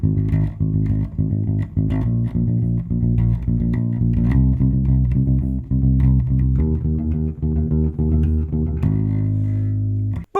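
A bass line plays root notes under a chord progression, steady clear notes shifting every beat or two alongside sustained harmony, with no voices.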